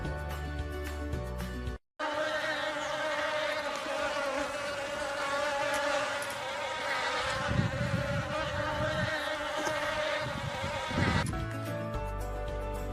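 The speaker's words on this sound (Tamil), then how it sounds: "வண்டுகள் முரளும்." Beetles give a steady, droning insect buzz that holds for about nine seconds, with a voice speaking briefly before and after.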